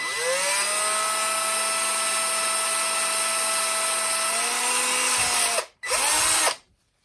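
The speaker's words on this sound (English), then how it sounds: "I'm going to take the drill bit. I'm going to put it right on the seam." A power drill whines steadily at high speed for several seconds as the bit bores into the seam of a plastic action figure, pitch dipping briefly, then stops, revs once more and cuts off.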